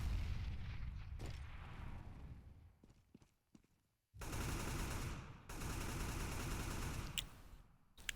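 Automatic rifle fire rattles in sustained loud bursts inside the Counter-Strike map de_cache, shots from Kalashnikovs and M4 rifles punching through a wall, with a short lull before two long dense volleys.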